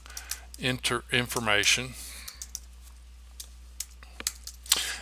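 Computer keyboard typing as a name is entered into a new contact in LinkedIn Sales Navigator: quick, irregular key clicks scattered after a person finishes speaking, close and moderately loud.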